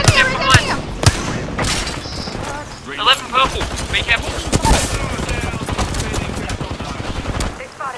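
Rapid gunfire and sharp shots from an Apex Legends firefight ring out in bursts across the stretch, with dense clattering volleys in the middle and an unrelenting busy battle mix throughout.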